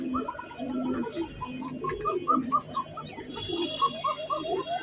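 Arabian coca pigeons coo in soft, repeated rounded notes, a steady low throaty cooing that continues through the clip with faint chirps and background noise.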